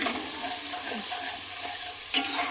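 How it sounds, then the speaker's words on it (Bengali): Ground spices including cumin are stirred into a sizzling pan for a potato curry, giving a close, steady frying hiss with soft scraping strokes and a brief clatter near the end. "এই সব কটা ভালো করে মেশানো হবে"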